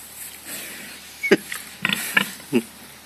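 A pig grunts in a few short, close bursts with quiet gaps between them, loud and clear against a low background.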